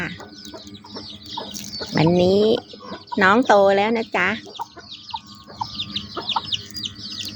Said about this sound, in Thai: พ่อไก่ตัวใหม่จ้า